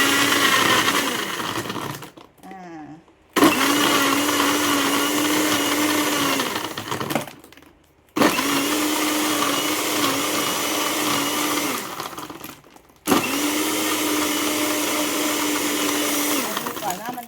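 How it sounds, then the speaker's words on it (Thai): A kitchen blender crushes ice for iced green tea in three long whirring bursts with short pauses between, loud and close, while someone talks over it. "แล้วก็ วิธีปั่นเลยนะคะ"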